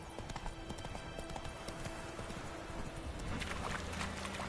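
Roach the horse galloping in The Witcher video game, a rapid, continuous drumming of hooves over a dense rushing background, fairly faint and steady throughout without talking.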